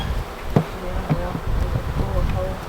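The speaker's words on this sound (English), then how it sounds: "we're going to grab a rack of nurse bees out of this box and put them in our swarm" A honey bee swarm buzzes loudly and steadily at close range, a dense hum with occasional individual bees flying past the microphone, while voices talk faintly underneath.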